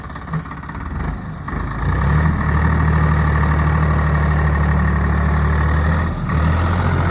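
A Swaraj 855 tractor hauling a fully loaded 22-foot trolley, its diesel engine throbbing with a steady low drone that rises as it pulls, then runs on at an even, strong note.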